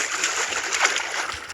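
A splash into ketchup-colored water in a video game obby, heard as a short burst of bright splashing and sloshing, moderately loud and alone.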